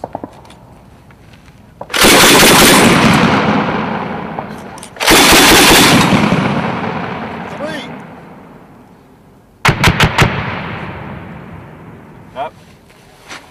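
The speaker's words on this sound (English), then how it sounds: "You're condition one, firing 3-round bursts." A Marine-fired Mk 19 grenade launcher lets off loud three-round bursts at a range, each volley a rapid triple thump with a long rolling echo, the last burst sharper and clipped; a voice speaks in between.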